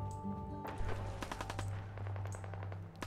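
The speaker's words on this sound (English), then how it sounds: "I'm shooting." A player fires a gun in the video game Fallout 4, a rapid burst of sharp repeated shots over a steady low game hum, then tapering into a few scattered reports.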